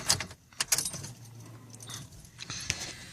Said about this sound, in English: Just grab my keys,